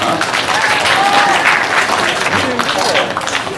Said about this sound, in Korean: 우리 격려의 박수 한번 부탁드립니다